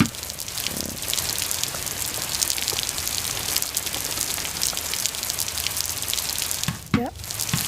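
Water pours and spatters onto garden plants of cucumbers and tomatoes in I Am Cat VR, a steady rain-like patter of drops throughout, ending with a brief squeaky sound near the close.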